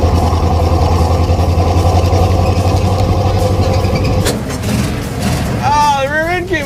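The engine of a Roadkill project car runs with a loud, steady low drone and then falters near the end, while people talk excitedly over it.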